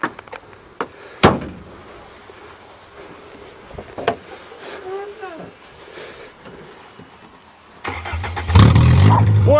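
A 1993 Toyota Tercel cranks and catches, its engine firing up and revving loudly near the end after a few sharp knocks, with people talking around it.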